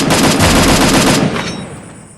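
Automatic gunfire in a shooter video game, a loud rapid burst of shots lasting about a second before tailing off into a short echoing decay.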